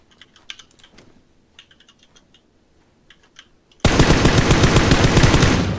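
Quiet computer keyboard clicks give way to a sudden, loud, sustained burst of automatic gunfire in the shooter game PUBG on the snowy Vikendi map, continuing to the end.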